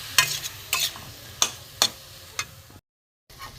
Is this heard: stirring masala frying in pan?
yes